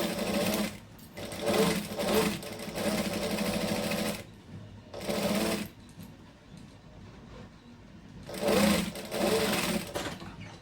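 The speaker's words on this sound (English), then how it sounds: "so now we can sew this one." Sewing machine stitching a camera bag, running in three loud bursts of rapid mechanical whirring, separated by short pauses, close up with no talk.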